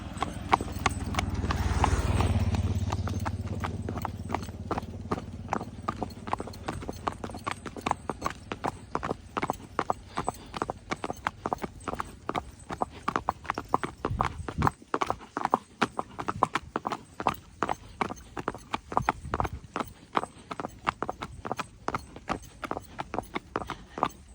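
A mare's hooves clip-clop in a rapid, even rhythm of sharp knocks that continues throughout, with a swell of louder noise near the start.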